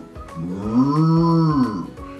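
Voices imitate a cow, a single long drawn-out moo held for about two seconds, loud and close, with no other talk.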